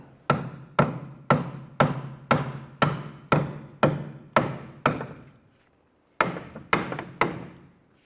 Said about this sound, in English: Try and give us a few bonks with a hammer.